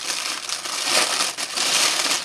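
Tissue paper in a pack from a dollar store is crumpled and crinkled up close, a dense continuous rustling crackle with no talk over it.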